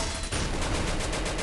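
Dense, sustained burst of gunfire in a Free Fire match, with a loud, noisy texture throughout, like rapid shots in a game battle.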